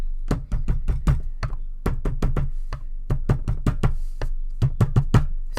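Ink being pounced onto paper for card crafting, heard as a steady run of dull, close taps in quick irregular bursts, roughly a dozen strikes separated by brief pauses.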